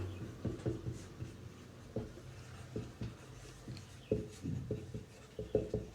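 Marker or chalk scratching quickly across a board in a chemistry lesson, a rapid run of short strokes and taps close by, with no talking.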